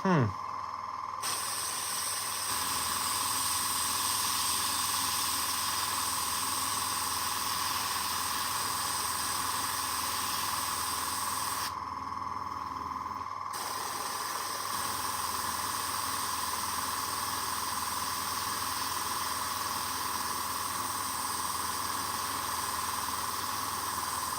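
An airbrush sprays paint onto a Warhammer miniature with a continuous close hiss that cuts out briefly twice, while a faint voice murmurs underneath.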